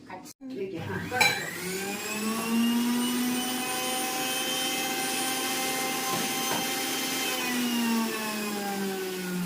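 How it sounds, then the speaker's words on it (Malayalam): A mixer grinder whirs steadily at high speed, blending juice with a strong, continuous motor drone after a short clatter at the start. "ഞാൻ സുജാതയുടെ മിക്സിയാണ് യൂസ് ചെയ്യുന്നത്"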